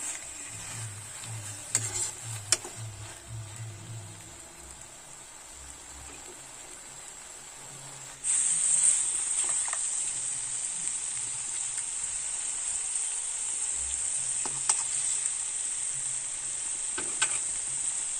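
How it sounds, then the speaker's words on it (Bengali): Potato chicken curry masala sautés in a pan with a constant bright sizzle that gets louder partway through. Scattered spatula scrapes and clicks sound over the frying, with a low hum early on. "এটাই কিন্তু ভালো করে একটু কষিয়ে নিতে হবে"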